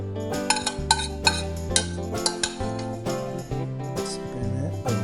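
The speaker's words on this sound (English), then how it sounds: "Pan over, scrape all our sauce." A utensil scrapes Bolognese pasta sauce out of a pan into a bowl, giving repeated metallic clinks and scrapes with music playing throughout.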